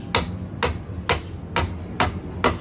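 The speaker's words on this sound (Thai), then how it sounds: "พ่อบ้านกำลังตีตอกทำสะพานให้นะคะ" Six sharp hammer blows land at an even, steady rhythm while building a small bridge, close and distinct, with quiet background noise between strikes.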